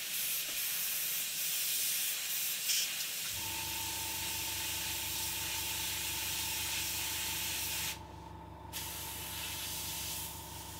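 An airbrush blows cleaner through after lacquer primer, first as a broad airy hiss, then as a steady spraying tone with a humming undertone. It cuts out briefly near the end, then resumes.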